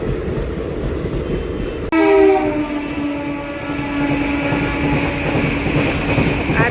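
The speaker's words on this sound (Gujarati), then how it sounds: "આટલી જ વારમાં બીજી ટ્રેન આવી ગઈ." A train passes close by with a heavy, steady rumble, and a loud sustained horn blares from about two seconds in and holds to the end.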